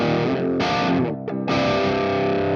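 Electric guitar chords ring out through an ML Sound Lab Oracle amp and ML orange cab with a heavily fuzzed, blown-out distortion and rock reverb, two sustained strums with a brief choked gap between.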